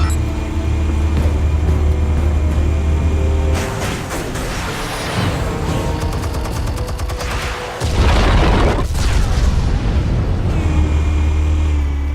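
Explosives detonate in Batman: The Telltale Series with loud, heavy booms and a crackling burst of debris, a deep rumble rising again near the end over a constant dramatic game soundtrack.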